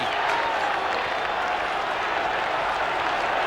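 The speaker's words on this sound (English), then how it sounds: "Listen to the crowd rising to Andy Goodwin." Crowd at a 1991 AFL match between Richmond and Collingwood, a steady dense roar of cheering and applause from a large stadium audience, sustained without a break.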